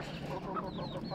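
A rooster kept among pet fowl, including an eagle cross, clucks and chuckles in short, rapid bursts at close range over steady background noise, with no speech.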